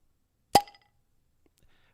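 A chilled drink can or bottle pops open sharply once, loud and close, with a brief ringing fizz trailing off into near silence and faint rustles.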